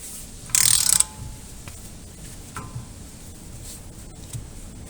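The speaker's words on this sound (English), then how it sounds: "I'm going to take the old axle nut and use that to push it back where it needs to be" A ratchet turns the old axle nut during rear wheel bearing replacement on a Volkswagen Golf mk4, giving one loud, dense burst of rapid clicking for about half a second, then quiet workshop background with a faint knock.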